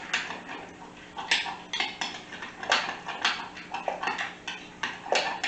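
A utensil whisks mustard-based coleslaw dressing in a bowl, producing quick rhythmic clinks and scrapes against the sides, close up, with no talking.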